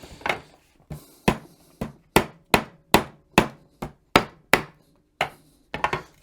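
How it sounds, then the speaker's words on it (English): A mallet taps the joints of a loose wooden chair to break the old glue bond, striking about a dozen sharp, evenly spaced knocks close up, with a short pause before a final cluster of quicker hits. "Take our handy mallet."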